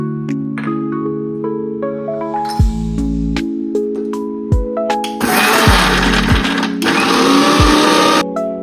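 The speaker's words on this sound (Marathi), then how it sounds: "मिक्सरला फिरवून छान बारीक पेस्ट वाटण बनवून घ्या।" A kitchen mixer grinder whirs loudly, grinding roasted spices with fresh coriander into a fine paste, in a steady close motor whine broken by short pauses and stops.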